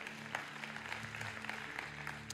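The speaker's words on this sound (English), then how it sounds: "Can you give the Lord a hand clap offering?" A church congregation claps for the Lord during an evening worship assembly, a steady patter of hands heard fairly faint and distant over a sustained low organ-like tone.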